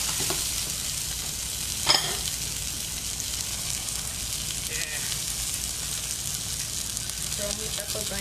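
Garlic frying in a pan, a steady broadband sizzle throughout, with one sharp clack partway through and faint voices underneath.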